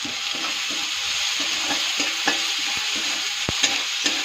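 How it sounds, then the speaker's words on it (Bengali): Ginger fries in hot oil with tomato in a pan, a steady close sizzle broken by regular scraping taps of a stirring spoon. "আদাটা সুন্দর করে ভাজা ভাজা করে দেবো।"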